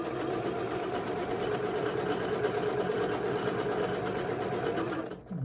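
A sewing machine stitches a quilt block in a steady, fast mechanical chatter that runs evenly for about five seconds, then stops abruptly.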